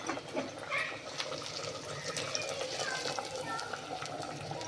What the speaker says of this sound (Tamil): இப்போ தாளிச்சது வந்து நம்ம இதோட சேர்த்துடலாம்.